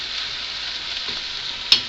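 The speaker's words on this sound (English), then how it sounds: "now we're ready to put our soy in the pan, and it's frying up" Vegan soy crumbles fry in oil in a pan with a steady, close hiss of sizzling, stirred lightly, ending in a small clink.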